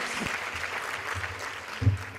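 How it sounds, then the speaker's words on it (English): At a Bharatanatyam arangetram, an audience claps in a soft, diffuse wash of applause, fairly distant and steady, with faint low room murmur underneath. "Let's give Priyanka a bigger applause, people."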